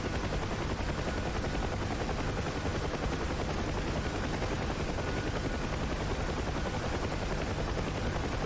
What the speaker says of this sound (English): that F3 flyby sound is a bit ropey for the Huey